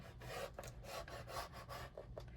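A blade or stylus scores 110 pound cardstock for a 6x6 album, making a run of close, steady rasping strokes, each a short scratchy drag with brief gaps between, and no voices.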